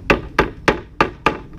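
Five sharp hammer blows drive nails down into wooden pallet boards, landing at a steady rhythm of about one strike every third of a second, loud and close with no talk.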